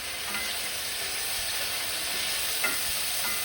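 Constant close hiss and crackle of red pepper flakes frying in a hot pan for paella, with a few faint clinks.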